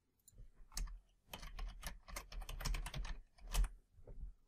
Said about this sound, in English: I'll just type in the password